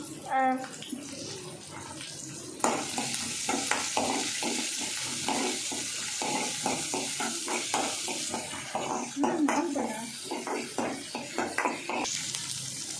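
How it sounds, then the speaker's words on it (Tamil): Onions fry in a pan for okra mor kuzhambu with a broad, steady sizzle and hiss, broken by repeated scraping stirs, with a brief voice at the start. "வெங்காயத்தை ஃப்ரை பண்ணிக்கலாம்"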